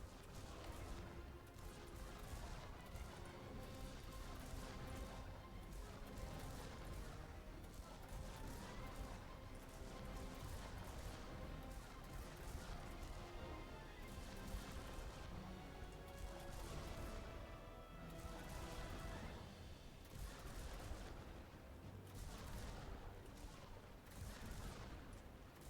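T3 units in Sanctuary: Shattered Sun fire in dense, overlapping volleys, keeping up a continuous rattle of distant, muffled weapon fire through the whole stretch.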